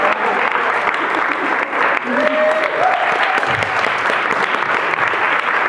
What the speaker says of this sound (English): Everyone give T. Haas a round of applause.